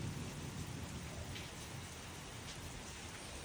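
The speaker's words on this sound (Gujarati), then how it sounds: "ભાવનગર ની અંદર વરસાદ તો નથી પડ્યો, પણ આજે સાંજે છે ને વરસાદ ચાલુ થયો છે" Evening rain falling in Bhavnagar, a steady dense hiss of rain on surfaces at low level, continuous throughout with no talk.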